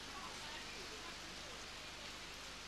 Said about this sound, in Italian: Adesso piove davvero forte